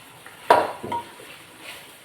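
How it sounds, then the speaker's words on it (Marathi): A spoon scrapes and knocks in a pan while stirring boiled black chickpeas, two short close clinks over a quiet background. "व्यवस्थित मिक्स करून घेऊया"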